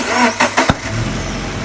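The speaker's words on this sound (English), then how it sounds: "That was a backfire." Subaru BRZ engine with an unidentified fault: three sharp pops in quick succession, the last the loudest, over a running engine that then settles into a steady idle.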